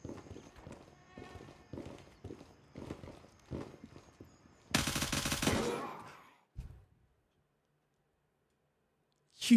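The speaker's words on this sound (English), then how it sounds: "we are going full mag dump mode, boys" Automatic rifle fire in Gray Zone Warfare as a full magazine is emptied: a rhythmic run of sharp shots, then a loud, dense sustained burst, before the sound cuts to near silence.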